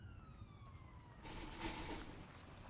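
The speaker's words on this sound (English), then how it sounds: "Out of the blue, they heard a siren behind them." A police car siren in a video game wails with rising and falling tones. A louder burst of noise follows as the car comes close behind.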